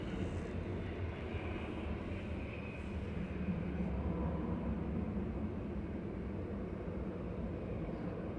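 Boeing 737-800 jet, flight 3126, at Manchester Airport: a faint, steady engine rumble and roar, distant and even throughout, with no voices.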